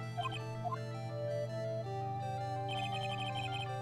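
A phone plays a melodic ringtone in the courtroom game Phoenix Wright: Justice for All, a faint electronic tune of repeating notes over steady background game music.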